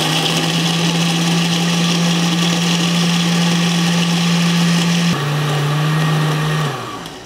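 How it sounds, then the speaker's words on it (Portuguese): An electric blender crushing ice for a piña colada runs with a loud, steady whirring drone, then the pitch drops abruptly as the ice breaks down, and the motor winds down near the end; no talking. "você para de escutar os pedaços de gelo dentro do liquidificador batendo"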